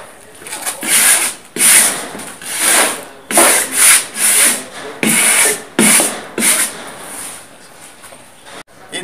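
A steel wire brush scrubs an old plywood concrete form in loud, rasping strokes, about ten bursts of back-and-forth scraping with short pauses between them.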